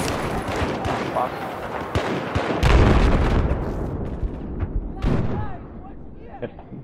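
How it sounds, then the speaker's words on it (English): Battlefield 4 video game combat with mortar fire, heavy booming blasts and explosions among scattered gunshots and machine-gun bursts, loud and dense with a big impact near the middle, while a player talks over it. "They've still got their mortars up."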